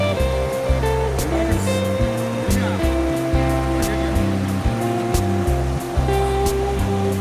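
Rushing water from the waterfall at the Punjisil picnic spot in Koraput, Odisha, a steady broadband roar that runs the whole time beneath loud, rhythmic music.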